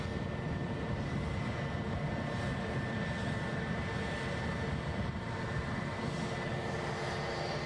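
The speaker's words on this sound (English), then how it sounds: "18 years old this aircraft" An 18-year-old airliner at Edinburgh airport, a steady low engine roar with a faint high whine, heard from a close spotting position and holding at an even level with no voices.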